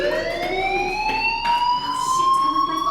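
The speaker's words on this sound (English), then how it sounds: "do you hear that fire alarm?" A steady electronic alarm tone with rising harmonic pitch sounds continuously, loud and close, with faint background noise and no talking; a fire alarm in the video game Life Is Strange.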